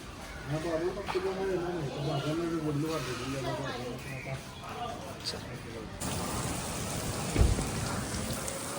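Heavy monsoon rain pours down in Goa, a steady broadband wash. Someone talks over it for the first several seconds, then the downpour grows louder and more open, with one sharp nearby thud.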